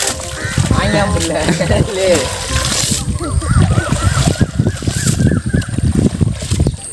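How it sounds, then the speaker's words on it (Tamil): Freshly caught fish are rinsed in a village river, with splashing and sloshing water close by in repeated bursts, while voices talk over the splashes. "பாருங்கள் எப்படி அலசுறான் பாருங்கள்."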